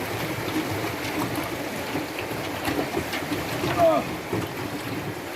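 Water churning and rushing steadily against the hull of a small boat whose back end drags through the water, a continuous wash heard up close, with one brief exclamation from a man.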